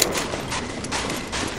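Gunfire in the video game Medal of Honor: Allied Assault, a dense burst of rapid overlapping shots in quick succession, loud and sustained across the moment with no talk.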